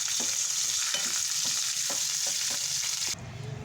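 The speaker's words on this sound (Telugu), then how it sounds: "ఇందులో వచ్చి నేను శనగపప్పు, మినప్పప్పు, ఆవాలు, కరివేపాకు ఫ్రై చేసేస్తున్నానండి." Chana dal, urad dal, mustard seeds and curry leaves frying in oil for a tempering, a dense close sizzle with regular stirring scrapes roughly twice a second, then a sudden drop to a quieter tail at the end; no voices.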